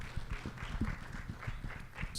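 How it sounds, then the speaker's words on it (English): An audience claps to welcome filmmaker Megumi Sasaki to the Avon theatre for a talkback, a faint, uneven patter of scattered hands heard from a distance. "Let's give her a big round of applause."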